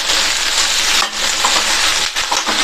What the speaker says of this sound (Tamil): ஹை ஃப்ளேம்லேயே வச்சு 1 நிமிஷத்துக்கு வதக்கிக்கங்க